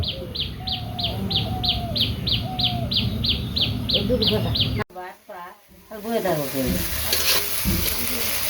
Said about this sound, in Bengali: এবার সে বেগুন ভাজতেছি